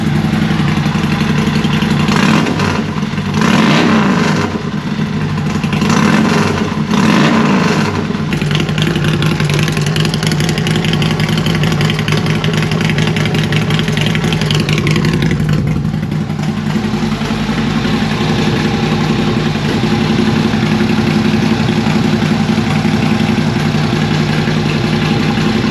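A Harley-Davidson Road King fitted with an Ultima Dominator 2-1 exhaust and no tune yet gets several sharp throttle blips over a loud, steady idle close by, then settles back to a lumpy rumble.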